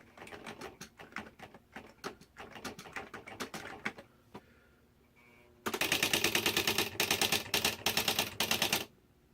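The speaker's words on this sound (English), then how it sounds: "When it's centering, it's going to let you type. It's going to back out to center everything, and then it's going to type." A Smith Corona SL80 electric typewriter types a rapid run of keystrokes, pauses while the carriage moves back during auto-centering, then hammers out a dense, loud burst of strikes up close.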